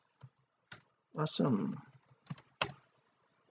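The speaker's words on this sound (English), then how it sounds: "I'm just going to type" Keyboard typing in short separate bursts of clicks, close and moderately loud, with a brief spoken exclamation in the middle.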